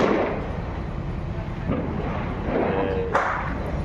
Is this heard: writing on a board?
no